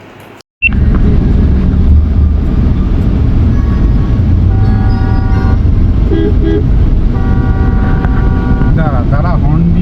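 Vehicle horn honking on an outing near the jungle in Jhargram, heard as repeated tonal blasts in the middle and later part over loud wind and engine rumble, with voices nearby.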